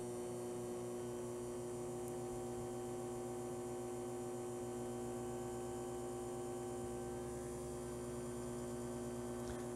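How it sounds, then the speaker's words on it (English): The small electric motor of an arrow cresting jig hums steadily and up close, a droning tone that wavers slightly in speed across the stretch, with no talking. "You're going to notice the motor speed up and slow down."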